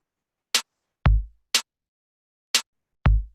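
A sparse sequenced drum-machine beat in a beat-making session plays alone: deep kicks alternate with crisp, bright snare hits on the two and four, five clean evenly spaced strikes with silence between.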